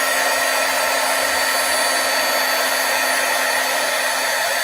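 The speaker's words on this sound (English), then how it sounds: "I'm going to give it a little blow dry" A hair dryer blows steadily on freshly stamped ink, a loud, constant whooshing hum that runs uninterrupted and close for the whole stretch, with no voices.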